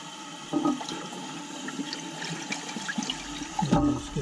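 A toilet flushes loudly and close during a fill valve replacement, with water rushing and swirling steadily as debris and sediment wash out, plus a few gurgles and clunks toward the end.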